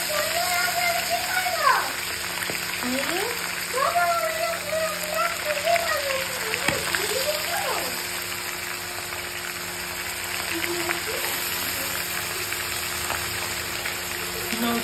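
Chicken meat sizzles in a hot pan for chicken kasha, a steady crackling hiss that runs throughout while a voice talks over it.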